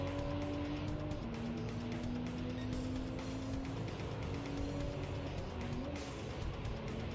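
A Peugeot hatchback in a video game drives with a steady engine drone and a sustained tonal whine that shifts pitch gradually, with a faint squeal of tires and no talking.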